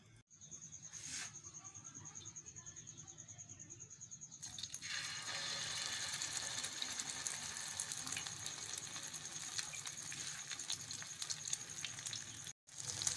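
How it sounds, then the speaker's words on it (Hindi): Egg-coated chicken shami kebabs fry on a griddle over low heat. A faint, steady sizzle and crackle starts after a few quiet seconds and carries on softly, broken by a brief gap near the end. "अब हम इनको अंडे की लेयर लगा के फ्राई करेंगे"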